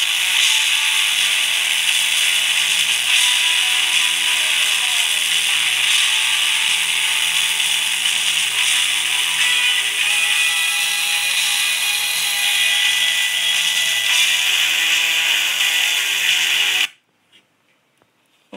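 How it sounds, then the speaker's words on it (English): A MOSFET Slayer Exciter circuit running at 100 volts gives a loud, steady electrical buzz with a harsh, bright hiss, holding for about seventeen seconds before cutting off abruptly into near silence. "that was the Slayer Exciter at 100 volts"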